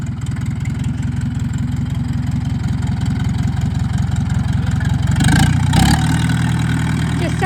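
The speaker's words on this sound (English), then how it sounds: "I do like this tractor." A Fendt tractor engine idles with a heavy, pulsing low throb, close and loud, then revs briefly twice near the end before settling back to idle.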